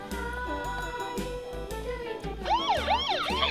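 A toy police bus siren wails in rising and falling electronic sweeps that loop steadily, joined near the end by faster warbling tones, loud and close with no talk.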